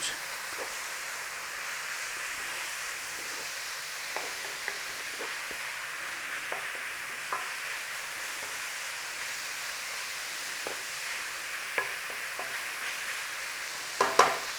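A spoonful of flour cooks in a pan for cottage pie, giving a soft continuous sizzle and hiss with occasional light stirring taps and a clatter at the end.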